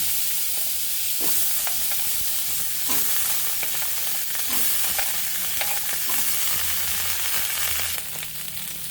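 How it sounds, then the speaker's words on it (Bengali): Spring onion greens fry in oil in a wok, producing a loud, continuous sizzle with bursts of crackling and occasional stirring scrapes close by, easing slightly at the end. "আমরা ওই তেলের মাঝেই এখন পেঁয়াজ কলিগুলো ভেজে নেব"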